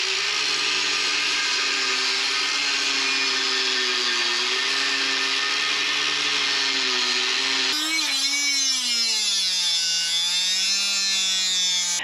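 A power tool grinds steadily on a truck light bracket on an SVT Raptor, a loud continuous whine that holds for most of the stretch and then drops in pitch near the end, with no talk.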